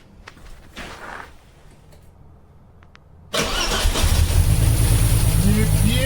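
A Vauxhall Royale Coupé carburettor engine, recently revived, sits quiet at first among faint clicks and handling sounds, then cranks and catches suddenly into a loud, steady idle that fills the rest of the clip.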